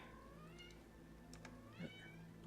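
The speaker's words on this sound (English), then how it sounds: "listen to Chell meow" A cat in the Vintage Story game gives several soft, whiny meows over a steady ambient hum, with no one speaking.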